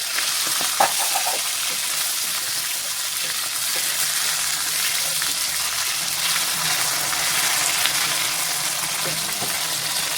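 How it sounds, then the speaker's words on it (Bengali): Fish fries in a pan of hot oil with a dense, steady sizzle and crackle, loud and close, continuing without pause. "দেখুন এখানে আমার মাছটা খুব সুন্দর করে লাল লাল করে ভাজা হয়ে গেছে।"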